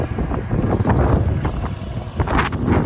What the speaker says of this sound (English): There ain't gonna be no place that ain't windy out here.